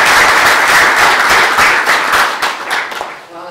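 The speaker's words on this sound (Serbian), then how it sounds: "Molim vas, jedan veliki aplauz." An audience at a university book event in Sarajevo applauds loudly with dense, continuous clapping that tapers off toward the end.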